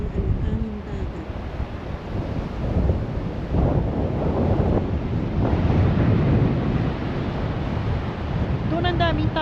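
Wind buffets the microphone at Paraparaumo Beach, New Zealand, over a steady wash of rough sea waves, rising and falling in loudness, with a person speaking briefly at the start and end.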